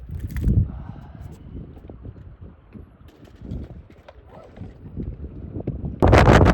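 Gusts of wind buffet the microphone on a boat out on Indian Valley Reservoir, a rough rumbling roar with scattered knocks and clatter, swelling into a loud blast at the end.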